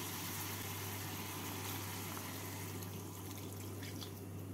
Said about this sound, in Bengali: এর মধ্যে আমি দিয়ে দেবো 1 কাপ দুধ।